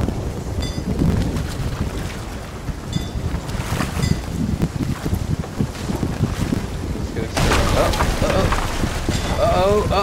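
Creaking, rushing breakup of a ship at sea in a video game, with wind and water noise throughout and people talking over it.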